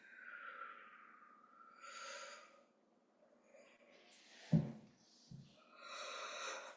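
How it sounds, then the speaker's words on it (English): A slow, breathy exhale through the mouth, soft and close, followed by a couple of faint snort-like breaths and another gentle airy breath. "And then exhale slowly through the mouth."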